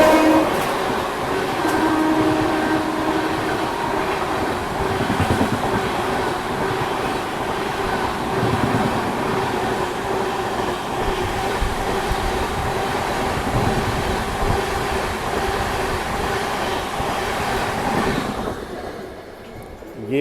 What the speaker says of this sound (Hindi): कोई तो ट्रेन ओवरटेक कर रही है अपने को।